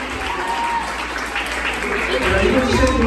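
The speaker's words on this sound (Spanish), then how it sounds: "Un aplauso, Palmas." Applause from a crowd of guests at a quinceañera celebration, a dense, continuous patter of clapping that swells slightly over a few seconds, with voices mixed in.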